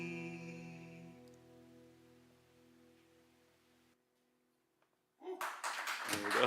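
A small audience of a few people clapping, a short burst of applause near the end following fading musical notes and a pause of silence.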